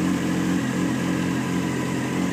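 A warmed-up 2006 Honda CBR600F4i motorcycle engine idles close by with an even, steady low hum that holds without revs.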